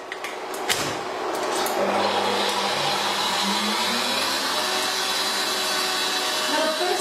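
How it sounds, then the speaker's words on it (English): Egg whites whisked for meringue with an electric whisk, a loud, steady whirring drone that starts up after a few knocks and runs without a break to the end. "So we can begin the process of mixing our egg whites together."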